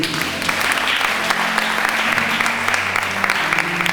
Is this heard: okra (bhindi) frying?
no